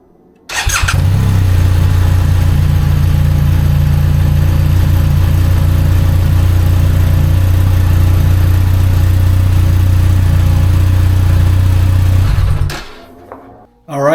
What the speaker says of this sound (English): Now it's time to start this and let it run for just a second.